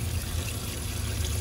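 Water streams steadily out of an inexpensive homemade hydroponic system, a larger setup like an AeroGarden, making a continuous close trickling rush with a low hum beneath it.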